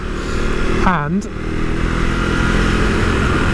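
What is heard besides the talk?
Husqvarna Svartpilen 401 motorcycle engine revving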